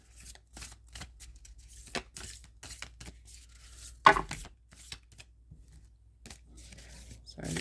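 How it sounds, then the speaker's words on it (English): Deck of tarot cards being shuffled up close, a string of sharp irregular riffling snaps and slaps with brief pauses between, over a quiet background with occasional soft speech. "Sorry, these are so difficult to shuffle."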